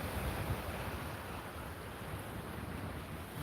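Steady surf and ocean waves roll in at a beach in Fort Lauderdale on a Friday night, a continuous broadband wash with low rumble and some wind buffeting the microphone, heard alone without speech.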